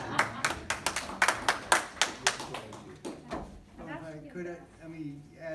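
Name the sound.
applause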